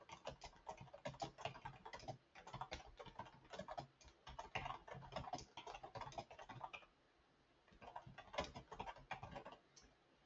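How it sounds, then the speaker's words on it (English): Steady typing on a computer keyboard, quick close clicking keystrokes running in bursts with a short pause near the end, no talking. "I'm going to type all of that out."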